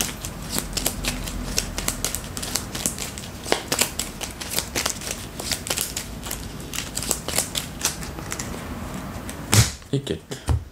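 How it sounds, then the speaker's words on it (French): Playing cards for the Apex Theropod board game drawn and handled at close range, a busy stream of crisp slides, flicks and taps, ending with a louder card slap and a few rustles. "je retire 4 cartes"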